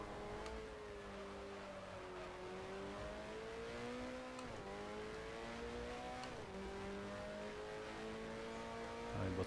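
A 1972 Formula 1 race car engine in the F1 Challenge racing game wails steadily and loudly, its pitch climbing and dropping sharply through several gear changes, with no talking.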